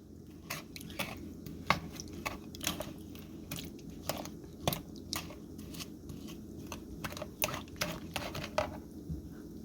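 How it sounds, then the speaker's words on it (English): A spoon works through rice pudding ingredients in a bowl, irregular soft clinks and wet squishing taps repeating steadily throughout, close and quiet over low room hum. "Then you're just going to stir all this together."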